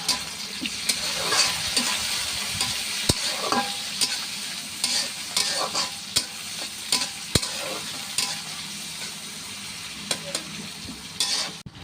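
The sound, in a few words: dried hilsa fish head and tail frying with onion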